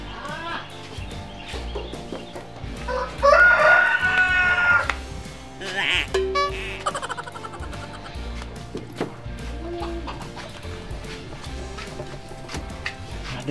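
Chickens and a rooster at a chicken coop, with clucking and a drawn-out crow rising early on, mixed into a busy, noisy background with voices.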